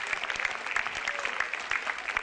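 Steady crowd applause, dense continuous clapping from many hands with scattered sharper claps, sustained for a couple of seconds.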